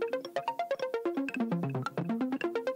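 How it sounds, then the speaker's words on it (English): A rapid arpeggio built from harmony strings in a music production remix plucks out quick, evenly spaced notes in a bouncing pattern that steps down and back up, soft and clean with no voices. "Next up is the Arpeggio."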